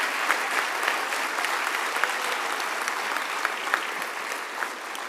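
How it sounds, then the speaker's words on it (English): A big round of applause for teachers and staff at the Lawrence Virtual School graduation: dense, even clapping from a crowd, fairly loud and sustained throughout with no voices. "let's give them a big round of applause"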